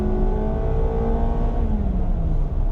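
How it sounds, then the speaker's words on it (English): Honda Fit EX CVT, a 2019 model, accelerating hard with the pedal floored, its engine note droning loud and steady close up inside the cabin, with gradually rising and shifting tones and no talking. "that gas pedal is pretty sensitive. If you floor it, this car will downshift"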